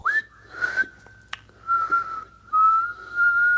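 A person whistles alone in a quiet room, holding long steady tones that start with a rising swoop, with a short click partway through and a slight dip in pitch near the end.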